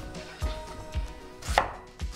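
A knife dices an onion on a cutting board, five distinct thuds in an uneven rhythm, close and clear, with no talking.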